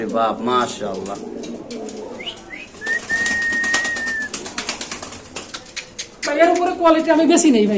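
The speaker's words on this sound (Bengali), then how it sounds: "ইন্দোনেশিয়ান কালারের ফ্যান্টেল কবুতর এগুলা দেখেন" Indonesian-colour fantail pigeons coo nearby amid a bird's sustained whistle-like call, with people talking at the start and again at the end.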